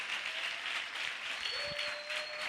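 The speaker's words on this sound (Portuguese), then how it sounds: "aplauda o nome do Senhor Jesus bem forte nessa noite" Church congregation applauding in praise of Jesus during an evening service, a dense steady wash of clapping with a faint sustained tone rising through it near the end.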